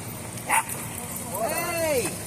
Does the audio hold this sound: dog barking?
yes